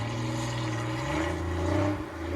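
Porsche rally car engine revving in snowy conditions, a sustained throaty drone that swells and holds steady at moderate volume before dipping near the end, with no talk over it.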